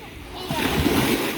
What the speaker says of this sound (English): water's hitting up right here.